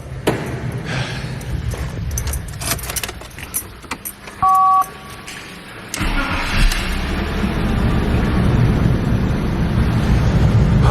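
An old rotary-swapped BMW E36 with noisy lifters cranks with rattles and a short chime, then catches about halfway through and settles into a rough, steady idle close to the microphone.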